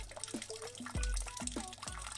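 First runnings of dark wort draining from a homebrew mash tun, a close liquid gurgle and splash with bubbly drips and a steady trickling flow.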